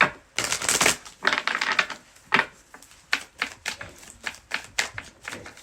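Crisp, papery riffling bursts of tarot cards being shuffled repeat in quick irregular succession close by, over and over.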